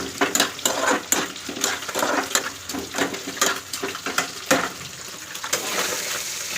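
Eggplant and potato frying in a pan, with repeated scraping and stirring clatter over a steady sizzle, close and fairly loud, no talking.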